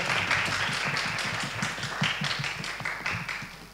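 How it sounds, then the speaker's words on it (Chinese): Audience applause at a university debate competition, a steady wash of many hands clapping that holds fairly loud and even, with some speech mixed in. "掌声鼓励一下"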